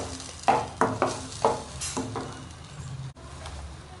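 A spoon steadily stirs masala frying in oil in a pan for mor kuzhambu, a South Indian buttermilk curry. Repeated scraping clicks ring out over a continuous close sizzle, with no talking.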